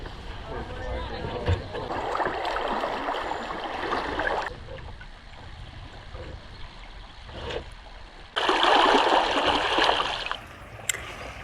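Canoe paddle strokes churn river water on the Kickapoo River, two close bursts of splashing and swishing separated by a quieter stretch of flowing water, with a person's voice faintly present.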